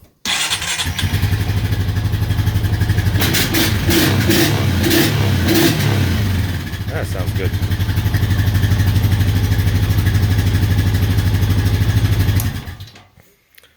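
A loud 2015 Honda Rubicon ATV engine, fitted with a K&N air filter, idles and revs steadily close by, with a brief drop in intensity midway before rumbling on and cutting off; a voice speaks briefly over it.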